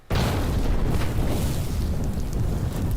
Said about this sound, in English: A powerful explosion shook the building and almost caused me to fall on my butt.